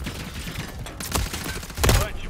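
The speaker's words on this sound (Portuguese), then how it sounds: "Levando tiro!" Gunfire in the Modern Warfare 3 video game, broadband bursts of shots around the middle and end of a short busy stretch of game noise.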